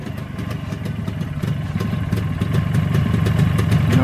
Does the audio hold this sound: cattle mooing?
no